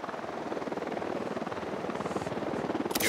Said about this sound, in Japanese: ユニダットのヘリが巡回して